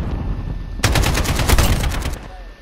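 AK-47 gunfire in Call of Duty Modern Warfare: a loud automatic burst of rapid, closely spaced shots lasting over a second, starting abruptly after a quiet lead-in and ending just as suddenly.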